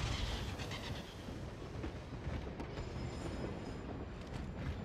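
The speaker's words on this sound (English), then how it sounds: "Shut up, train." A train passing in the Warzone video game, a loud steady rumble of rolling wagons with faint wheel squeal, continuous for several seconds without voices.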